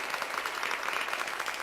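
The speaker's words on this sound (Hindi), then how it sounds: "एक बार ताली बजा करके बस शांति बनाइएगा" An audience at a motivational poetry recital clapping together, a steady, fairly faint wash of applause that carries on for the whole moment with no speech over it.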